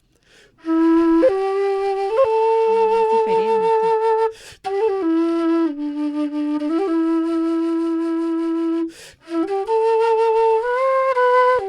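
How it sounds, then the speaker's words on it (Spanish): A low, breathy quenacho flute holds long deep notes with a few slides between them, played close and steady with brief pauses. "tenemos un instrumento que tiene sonidos graves"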